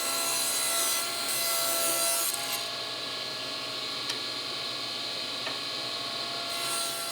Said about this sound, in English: I'm going to cut this to strips that are 3/8 of an inch thick here on the table saw